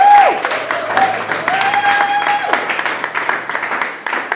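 Audience applause at a community leadership event, a steady wash of clapping that stays fairly loud for several seconds, with tonal sounds and faint voices mixed underneath.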